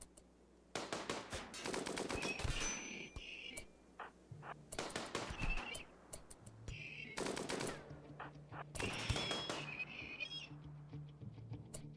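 Bursts of ranged gunfire in RimWorld rattle in clusters of rapid clicking shots, separated by short pauses, with faint chirpy game sounds in between and no talking.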